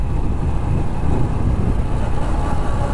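Large car-carrier trucks passing on a highway through a factory area, heard as a continuous low rumble of heavy engines and road noise, steady and fairly loud throughout.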